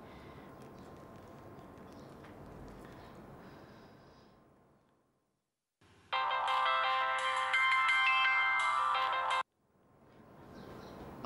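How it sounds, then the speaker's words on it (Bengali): A telephone rings and goes unanswered in a domestic drama scene, a loud electronic ringtone pattern sounding for about three seconds between quieter stretches of muffled background. "রিং হচ্ছে, ফোন তো ধরছে না।"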